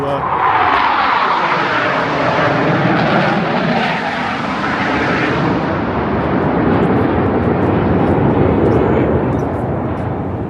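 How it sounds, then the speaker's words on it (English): A loud jet roars overhead at Betws-y-Coed, Wales, its pitch sweeping downward as it passes, with a sustained rumbling wash that lingers and fades slightly. "That's a couple of jets that I can't identify."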